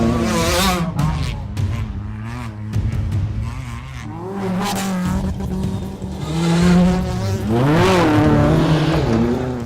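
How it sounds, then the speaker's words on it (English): Rally cars racing flat out on a fast gravel stage, engines loud and close with revving, shifting pitch and tyre scrabble across the clip, plus faint voices underneath. "The cars do some astonishing tricks on the track and off of it"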